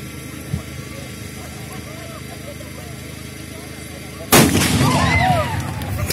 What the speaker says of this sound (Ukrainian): хотів би пострілом з казацької гармати сповістити навкруги про наше свято